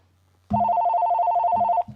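A telephone rings on a radio call-in show: one long electronic ring from about half a second, loud and close, then brief low bursts toward the end.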